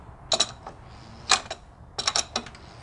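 A torque wrench ratchets in a few short clicking bursts while tightening the oil drain plug on a BMW E46 330i/325i, close and crisp with no talk.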